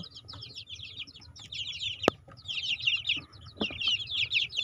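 Chicks in a chicken coop during the breeding period, giving dense, continuous high chirping and clucking, fairly close, with a sharp knock and a few low thumps partway through.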